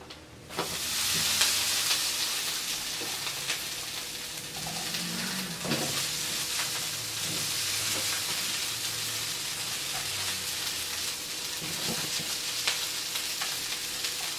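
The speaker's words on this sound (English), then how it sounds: "now I'm going to be grilling the broccolis" Continuous loud sizzling and crackling of broccoli on a hot grill, with occasional scraping and stirring noises, steady throughout.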